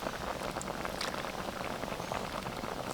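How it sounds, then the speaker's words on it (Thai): Boiling water poured over raw fish meat to cook it for Lao-style laab, a steady close hiss and bubbling patter that holds at an even level throughout. "เราจะทำเนื้อปลาของเราให้สุกนะครับ โดยการใช้น้ำนะครับ เดือดๆเลย"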